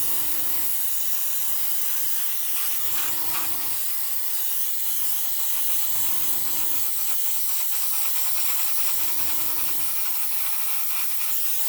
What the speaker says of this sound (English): never stopping the airbrush, because otherwise you might get spatter